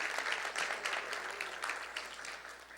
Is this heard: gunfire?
no